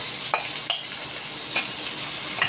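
Beef frying in hot oil in a pan, a steady close sizzle broken by several short scraping stir strokes at irregular intervals, with no voices.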